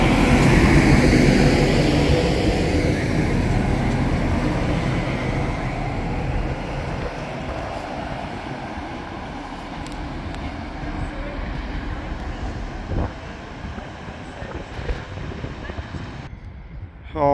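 A Class 158 diesel unit rolls through Sheffield station, a steady broad rumble and rail roar that swells early and slowly fades, with a voice talking over the passing train.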